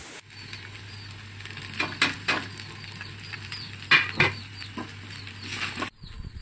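Grated potato and masala samosa filling stirred in a pan, with a steady sizzle underneath and repeated scraping strokes of the spoon in an uneven rhythm, close and fairly loud, ending abruptly.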